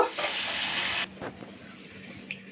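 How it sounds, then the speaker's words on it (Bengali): Running water pours and splashes as lentils (dal) are rinsed for khichuri, a steady hiss for about a second, then quieter sloshing and small knocks. "এবার ডালগুলো ধুয়ে নেব।"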